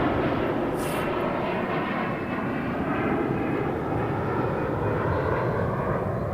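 An airliner at Toronto Pearson airport, a Jazz flight from Frankfurt via Toronto bound for Atlanta, gives off a steady, loud broadband engine roar that fills the whole stretch with no break and no talk over it.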